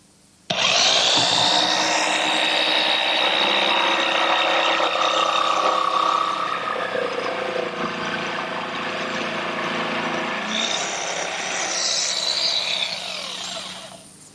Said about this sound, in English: just using my jigsaw.